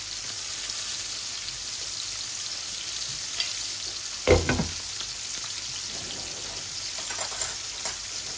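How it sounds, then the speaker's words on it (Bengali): Onion and garlic fry in a pan with a soft, steady sizzle at low volume, briefly interrupted by a utensil clatter near the middle and a few light stirring knocks toward the end. "এখন আমার পেঁয়াজ রসুনগুলা বালা করে ভাজা হয়ে যাক"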